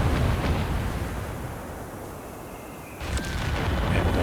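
Off-map artillery strike in Company of Heroes 3, with shells exploding in heavy rumbling booms that blend into a continuous roar, a sharper blast cutting in near the end.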